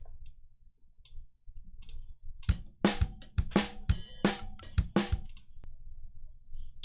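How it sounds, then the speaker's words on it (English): Metronome click track laid down in a sound design recording session: a regular run of about eight sharp, loud ticks in the middle of the clip, evenly spaced, over a low hum with quiet stretches before and after. "first I'm going to put down click"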